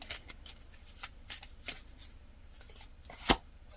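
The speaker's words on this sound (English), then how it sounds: "So I'm now going to shuffle the other half of that deck" Half of a tarot card deck riffled and shuffled by hand, a series of crisp close flutters and soft slaps, ending in a sharp loud snap, with no talking.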